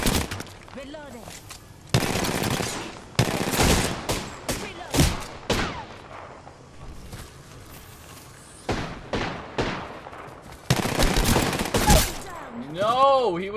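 Rapid bursts of automatic gunfire from the video game Apex Legends, loud and close, coming in several clusters of rattling shots with brief pauses between them, with game sound effects mixed in.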